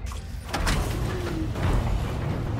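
A door sliding open inside an asteroid base in Call of Duty: Infinite Warfare, with a heavy mechanical whoosh and low hum that swell and hold steadily, fairly loud and close.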